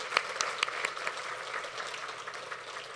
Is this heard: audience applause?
yes